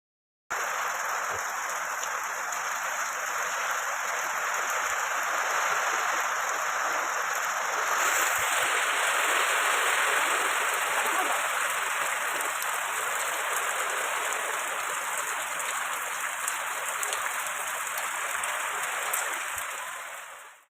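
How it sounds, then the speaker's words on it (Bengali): Heavy rain falls without pause in Assam, a dense, even hiss of drops on surfaces that stays loud and steady throughout, with no voices. "অনবরত মেঘ দিতে আছে"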